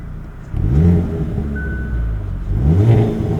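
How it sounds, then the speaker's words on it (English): A 2024 Hyundai Elantra N with a manual gearbox, in N mode, accelerates from inside the cabin. The engine note rises through rev sweeps, drops at a gear change, then climbs again. "they've made some tweaks to the exhaust system in this 2024 model. We don't have as many pops and burbles."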